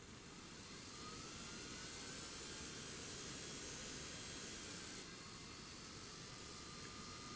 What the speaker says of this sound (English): I don't know if you can hear the motor, but it's spinning quite slowly.